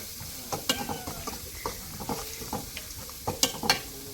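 Onions frying with salt in a pan, a low crackling sizzle broken by intermittent stirring scrapes and clicks from a utensil, close and moderately loud, with no voices.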